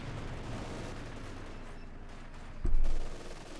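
A Panther tank's main gun fires once in Company of Heroes 2, a single heavy boom with a short rumbling tail that rises out of a steady bed of battlefield noise late in the moment.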